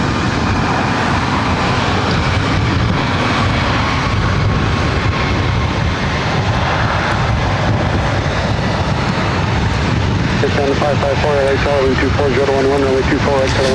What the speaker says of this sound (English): This is Delta Connection 4133 coming in from Aspen on the CRJ 700ER.